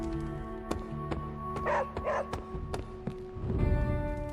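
Charlie, a dog in the video game Marvel's Midnight Suns, gives two short yappy barks and a soft whimper, close up over a quiet game soundscape with tonal background music and faint taps.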